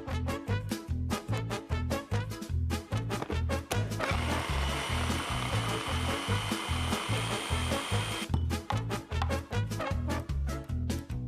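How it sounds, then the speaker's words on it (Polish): A blender whirs steadily for about four seconds while chia mousse is blended, its motor noise rising over a pulsing background music beat that plays before and after. "oby było warto, bo prawie rozwaliłam blender"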